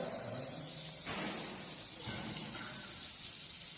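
Running tap water in a kitchen for wetting hands while shaping galouti kebabs, a steady close splashing gush without pause.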